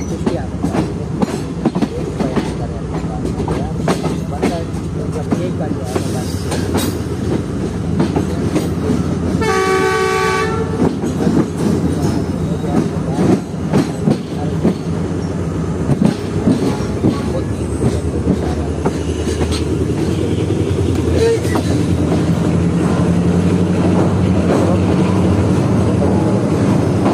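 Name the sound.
Tezgam passenger train running on the railway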